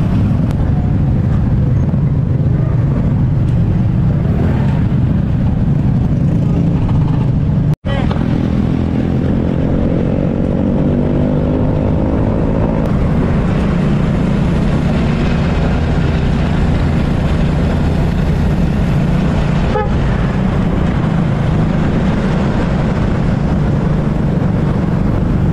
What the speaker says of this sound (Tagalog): alas 10 na sobrang traffic pa rin ito sa Mindanao Avenue